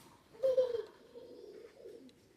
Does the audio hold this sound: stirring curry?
no